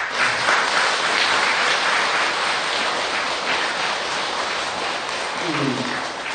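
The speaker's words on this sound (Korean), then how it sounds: "자, 우리를 위해서 한번 박수 한번 칩시다." Listeners at a Buddhist dharma talk by a monk clap together in a thick, rushing burst of applause that stays strong throughout, with a brief low voice surfacing near the end.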